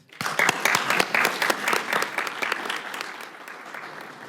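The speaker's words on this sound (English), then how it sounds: "Can we give them a round of applause, please?" Municipal clerks get a round of applause at a city council meeting, a short burst of clapping that builds quickly and then tapers off.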